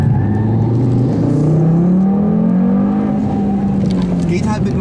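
Audi TT RS 8S all-wheel-drive car with APR tuning driven hard on a race track, engine note rising and falling through revs and gear changes, loud and close from inside, with voices partly over it.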